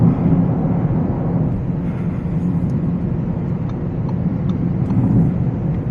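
An Audi RSQ8 performance SUV under way, giving a steady, loud, deep engine and road rumble that holds evenly throughout without speech.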